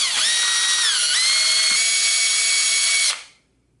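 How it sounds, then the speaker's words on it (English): Cordless power drill spinning a cotton swab to clean the carburetor of a Western Auto 5 hp outboard boat motor, a steady high whine with a slight pitch dip before winding down to silence. "We'll take our Q-tip on our drill."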